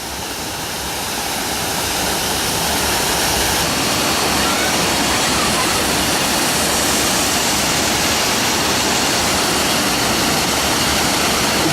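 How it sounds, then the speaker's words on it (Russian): Klonki waterfall on Koh Kood island pours in a loud, steady, broadband roar that fills the whole stretch without pause, close and unbroken, with no voices. "Вот он, Клонки Waterfall, второй по размеру, ну и, собственно, второй из двух водопадов на острове Кокут."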